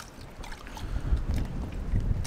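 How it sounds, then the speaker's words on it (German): Wind gusting around a sailboat on open water, a steady low rushing roar with buffeting microphone noise that builds louder through the second half, with no voices. "Jetzt kommt der scheiß Wind, Alter."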